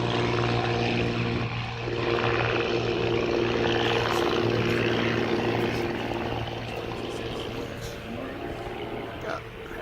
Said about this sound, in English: With the Buccaneer landing.